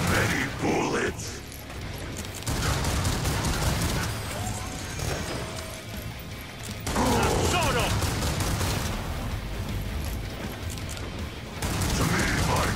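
Rapid gunfire in Killing Floor 2 from a gunslinger build, loud bursts of shots with mechanical clatter and booms, broken by brief lulls, with voices over the action.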